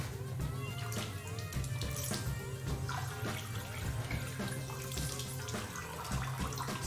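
A tap runs steadily into a sink while a face is wetted before washing, a continuous close splashing flow with no talking over it.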